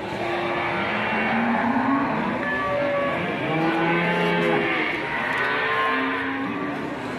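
Cattle moo repeatedly at the Ambarketawang cattle market, several overlapping calls from different animals near and farther off, over a constant busy crowd hum.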